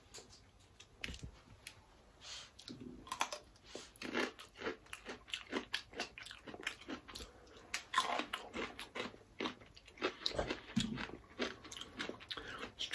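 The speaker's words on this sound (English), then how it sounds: "It's still very crunchy." Close, crisp crunching of green beans being chewed, a steady run of bites and munches with no talking.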